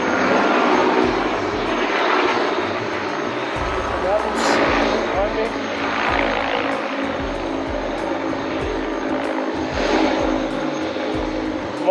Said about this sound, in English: On our way back to the helicopter now.